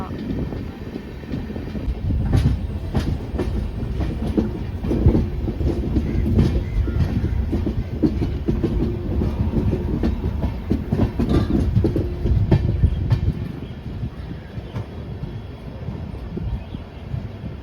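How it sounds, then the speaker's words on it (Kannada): A diesel passenger train departing a junction rumbles and clatters loudly and steadily for a long stretch, its rattling running throughout before easing slightly toward the end. "ಚಿಕ್ಕಬಾಣವಾರ ಜಂಕ್ಷನಿಂದ ನಮ್ಮ ಟ್ರೈನ್ ಡಿಪಾರ್ಚರ್ ಆಗ್ತಿದೆ"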